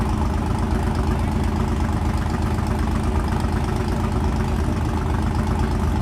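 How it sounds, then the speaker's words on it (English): Carlos Astor's 1981 Cutlass, with a naturally aspirated big block fed by a sheet metal intake and two 4-barrel carburetors, roars through a burnout at Thunder Valley in Noble, Oklahoma, a loud, dense, unbroken engine roar with no voices. "Carlos Astor doing his burnout, the 81 Cutlass."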